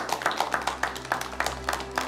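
Steady applause rises in a formal meeting room. The hand claps come in a regular, even rhythm at moderate volume over a low background hum.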